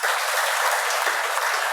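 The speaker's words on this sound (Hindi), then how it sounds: "तो ताली बजाओ जोर से।" A crowd at a yoga and spirituality gathering claps loudly and continuously, a dense wash of applause filling the whole short moment.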